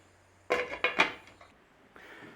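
A lid is set onto a pot of beef broth made with Knorr powder: a few close clattering metal knocks in quick succession, then a faint rattle after a short pause.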